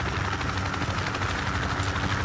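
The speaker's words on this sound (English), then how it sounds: "Get in the chopper" Helicopter in the military shooter game Project Reality, its rotor and engine roar droning steadily and loud without break throughout.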